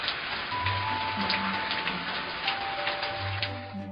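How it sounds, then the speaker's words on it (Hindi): Heavy rain pours steadily as a dense, continuous hiss throughout, with faint tonal sounds and a low hum running beneath it. "बहुत जबरदस्त बारिश होने लगा।"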